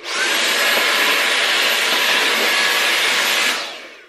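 A Dyson V8 Animal cordless vacuum cleaner runs at a steady, loud whine with broadband airflow noise, starting abruptly and cutting off near the end with no talking.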